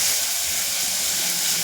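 Onions sizzling steadily in a pressure cooker over high flame for a chicken curry, a continuous bright hiss close by, even and unbroken with no voices.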